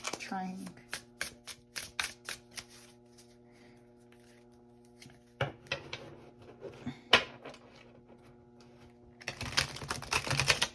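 Tarot cards are shuffled in quick, crisp bursts of riffling, pausing and restarting several times, close up, with background music and occasional talk.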